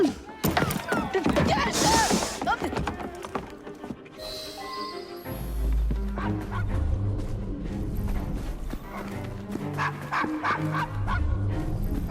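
A dog barks and yips repeatedly in the video game Assassin's Creed Syndicate, mixed with busy in-game street ambience, hoof clops and a low background rumble throughout.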